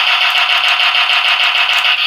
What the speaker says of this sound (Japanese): この金具を引っ掛けなければ、ビートクローザーの音だけ鳴らせるというね